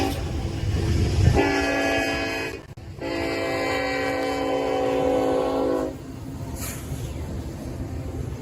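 Norfolk Southern freight train NS310 passes behind Union Pacific locomotives, including an NS SD60E, and a long, loud, close horn blast sounds over the steady rumble of the rolling cars, which go on after the horn stops.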